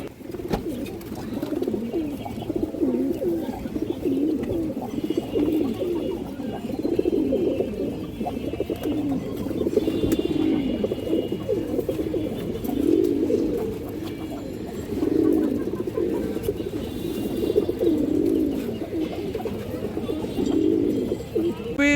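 Gorra pigeons coo in soft, repeated rolling calls close by, steady and rhythmic, while someone talks over them.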